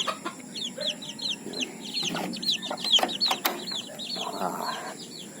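Several chickens cluck and chatter close by in a farmyard, with short repeated calls and a few louder squawks over a quiet background, joined briefly by fluttering.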